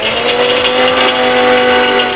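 A mixie mixer grinder whirs at a steady, loud pitch in a home kitchen during mutton biryani cooking, a continuous motor whine with no pauses and no talk.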